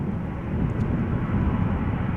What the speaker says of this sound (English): E2 Embraer 195 going to Göteborg.